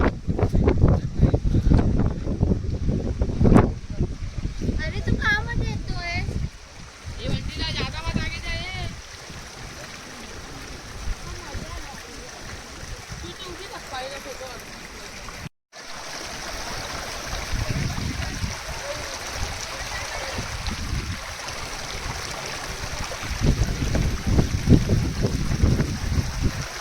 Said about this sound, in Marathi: हे बघा या ओढ्याचं पाणी खालती जाऊन ते वॉटरफॉल बनते